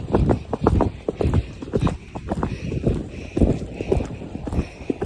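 Horse hooves clip-clop on a hard surface just ahead during a ride, a steady rhythmic run of sharp knocks, close and fairly loud, with faint movement noise around them.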